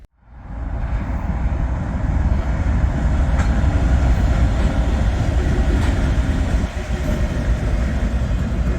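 A train rolls past at close range as a loud, steady, broadband rumble. It builds within the first second and holds with little change, with no voices.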